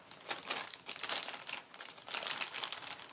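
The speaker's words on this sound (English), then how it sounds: "So I'm going to use a plastic bag like a frosting bag." A plastic bag crinkles and rustles in close, uneven bursts as it is handled for use as a makeshift frosting bag in a quiet room.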